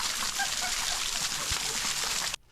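Hot waterfall pouring into pools at the base of Gros Piton, Saint Lucia, a steady broadband rush of falling water heard close up, continuous and loud for over two seconds before cutting off abruptly.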